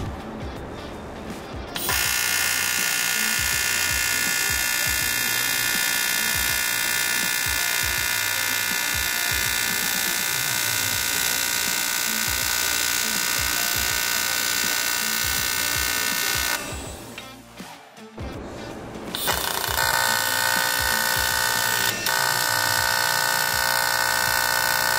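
An AC TIG welding arc burns on thin sheet metal with a triangular AC waveform, producing a loud, harsh, steady electrical buzz that cuts out briefly near the end before resuming, with no talk.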